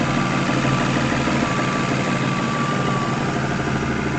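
A 2006 Aston Martin Vanquish S V12 engine idling steadily up close, a loud, even rumble with a faint high whine running through it and no change in pace.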